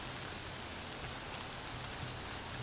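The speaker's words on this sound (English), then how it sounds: "that is the rain that you can hear." Steady rain falling at night outdoors on a path near an old furnace site, a constant soft hiss of drops with no distinct patter or other sounds standing out.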